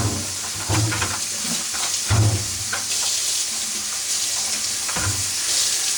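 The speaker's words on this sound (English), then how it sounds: "I'm going to wash out my bucket a little bit, because I'm going to use my bucket to help me wash out and rinse out the loose dye" Tap water runs steadily into a bucket as it is rinsed out, a continuous hissing splash with occasional low thumps and sloshes from the bucket being moved.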